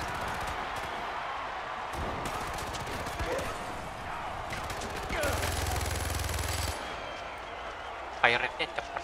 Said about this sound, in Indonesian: Fire rate-nya cepat banget ini senjata.